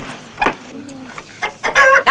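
A chicken clucks up close in several short, loud bursts that grow stronger toward the end, with little else around it.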